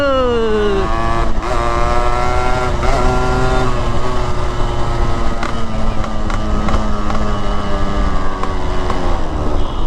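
A modified 1985 Yamaha RXZ two-stroke motorcycle revs and pulls hard while riding, its loud, rasping engine note rising and falling through gear changes, close up and continuous throughout.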